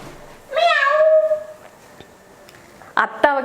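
A kitten meows once, clear and close for about a second with a rising, wavering tone, followed later by a couple of brief fainter cries in a quiet indoor home.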